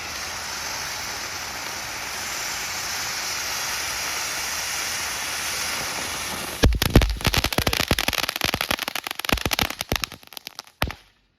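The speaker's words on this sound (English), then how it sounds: "I mean, that's a tall fountain for how tiny it is." A tiny Cone Head firework fountain, about four inches tall, hisses steadily for several seconds, then bursts into a dense run of sharp, loud crackles that thin out and stop.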